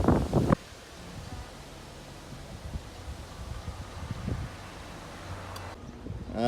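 Wind gusting across the microphone at a beach, a steady broad rush with low buffeting rumbles, close and fairly loud throughout, with a brief louder burst at the start and no speech.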